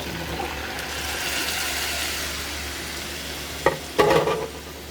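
Vegetables sizzling steadily in a hot pan for ginisang sayote with ground meat, a constant frying hiss with a couple of brief clattering stirs near the end.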